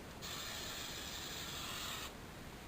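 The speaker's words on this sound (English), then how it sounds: "You spray your head first." A hairspray aerosol can sprays in one continuous hiss lasting about two seconds, close and steady, then cuts off abruptly.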